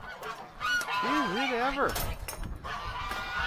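Geese-like ducks honk loudly outdoors in cold winter weather, a wavering run of calls near the mic with someone talking before and after over gusty background noise.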